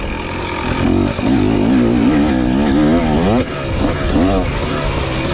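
A KTM two-stroke dirt bike engine revs up and down while riding, a loud buzzing drone with rising and falling pitch, with someone talking over it.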